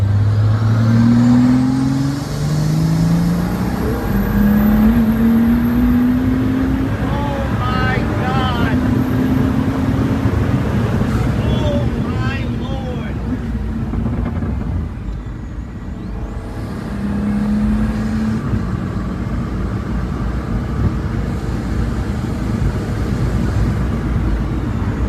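A Pagani Huayra BC Roadster's engine roars and climbs steadily in pitch as it accelerates hard in fourth gear, with heavy wind buffeting throughout.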